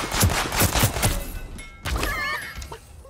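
Gunfire in the battle royale video game Realm Royale: a rapid volley of sharp shots in the first second and a half, then a lull and a burst of further impacts and effects, close and loud with no talk.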